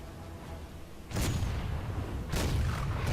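Cannon fire in the Heroes of the Storm video game: two loud, heavy booming blasts about a second apart, each a broad burst that lingers over a rumbling background, with no talking.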